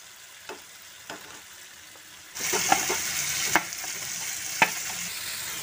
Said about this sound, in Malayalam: ഇനി ഇതിലേക്ക് ചിക്കൻ ഇട്ട് കൊടുക്കാം കേട്ടോ.